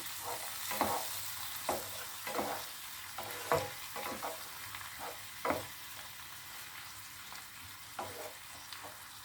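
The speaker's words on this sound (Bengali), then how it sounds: "অল্প জল দিয়ে মশলাটাকে খুব ভালো করে কষিয়ে নিতে হবে।" Spice masala for an egg do pyaza fries with a little water in a pan, a steady soft sizzle broken by repeated scraping strokes of a spoon stirring at an even pace, close and fairly quiet.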